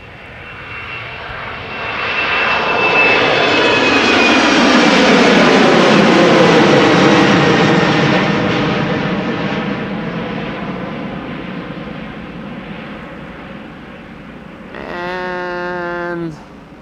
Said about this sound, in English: this Speedbird flight 8460 Embraer 190 going to London City